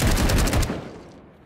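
Gunfire in the tactical shooter game Black One Blood Brothers, a loud, rapid automatic burst of closely spaced shots that stops abruptly and leaves a short fading tail.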